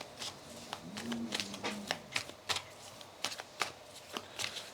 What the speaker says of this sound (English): Let's give these another shuffle